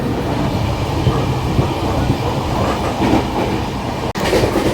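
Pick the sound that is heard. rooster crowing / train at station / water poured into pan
train at station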